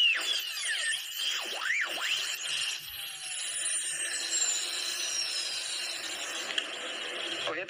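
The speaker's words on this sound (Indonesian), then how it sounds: "kita akan bor nanti" A power drill bites into a shock absorber, giving off a high, whining buzz that rises and dips at first and then settles into a steady, close grinding drone for several seconds.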